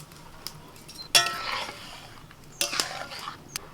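A metal lid clanks onto a cooking pot of lentils with drumsticks, with a bright metallic clink that rings briefly, followed by a second clattering placement a moment later, plus small light taps in a quiet kitchen.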